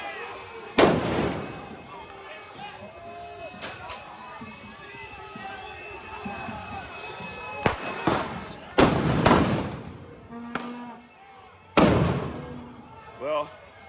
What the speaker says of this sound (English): Here goes another flash grenade.